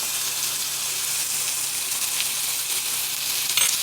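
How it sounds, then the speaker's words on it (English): Steak sears in a hot pan with a loud, constant, close-up sizzle that barely wavers, ending with a brief flurry of crackles. "Okay, so we're flipping. Yeah. Got a nice little sear on it."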